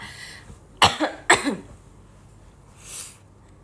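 A person coughs twice in quick succession, close and loud, followed by a softer breathy exhale or throat sound a moment later.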